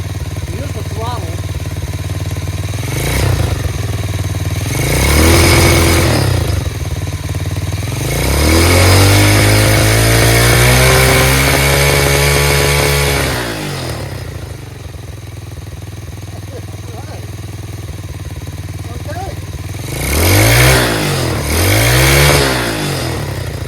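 Tao Tao 125cc Chinese ATV running on a new carburetor, its small engine idling close by and revving up in several throttle blips, one long sustained rev in the middle and two short bursts near the end.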